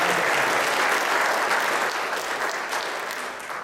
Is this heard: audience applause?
yes